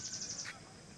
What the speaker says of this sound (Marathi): इथे एक छान पक्ष्याचा आवाज येतोय.